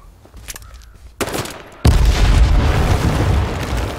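Grenade blast in the online game H1Z1, a sharp boom followed by a louder explosion that leaves a sustained, heavy rumbling roar to the end.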